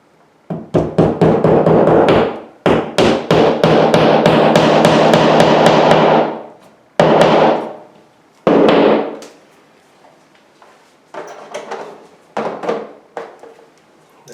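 Floating shelf bracket being tapped into place with a hammer, rapid bursts of sharp knocks in a dense volley, then a few spaced single hits and lighter taps, close and loud with no talk.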